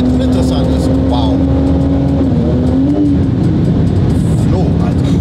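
A Porsche 911 Turbo S tuned to 1300 hp accelerates hard with a loud, sustained engine drone heard from inside the car, its pitch rising and dipping through gear changes while occupants talk and exclaim over it.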